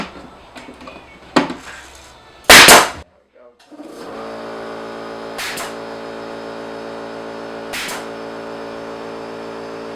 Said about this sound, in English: what I do is take my staple gun